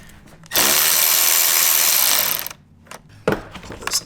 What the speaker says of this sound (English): we're going to go ahead and loosen up this nut securing the negative lead to the battery